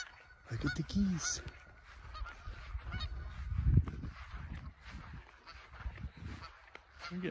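Geese honking outdoors at a Minnesota campsite near Eagle Cliff, roughly 40 yards away, with repeated irregular calls rising and falling over several seconds, one louder burst midway, and faint background voices.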